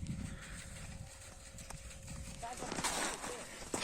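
Faint hooves of a walking Percheron draft horse clip-clop on hard ground while people talk nearby, with some rustling and wind noise.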